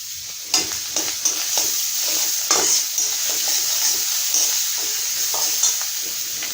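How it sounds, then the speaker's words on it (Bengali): Onion paste and other ground spice pastes frying in a pan for a drumstick curry, a steady hissing sizzle broken by repeated scraping stirs of a spoon against the pan, close and fairly loud. "এখন এই মশলাগুলোকে আমি ভালো করে কষিয়ে দেবো"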